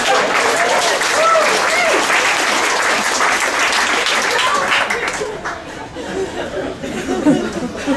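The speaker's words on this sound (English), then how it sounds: "getting an applause break after talking about diarrhea for 4 minutes means so much" A comedy club audience breaks into sustained applause mixed with chatter and scattered laughter, loud and dense at first, then thinning toward the end.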